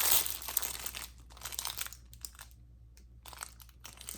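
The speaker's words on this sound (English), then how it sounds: "we like to ship it in our clear resealable bags" A clear resealable plastic bag, 6x9 size, crinkles close up in irregular bursts of crisp rustling, busier at first and then sparser with brief pauses, and no voices over it.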